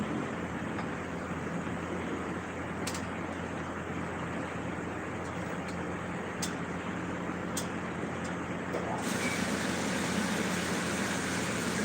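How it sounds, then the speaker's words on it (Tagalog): A continuous low mechanical hum drones steadily throughout, with a few faint clicks, and the tone shifts slightly near the end. "Ingay ng motor."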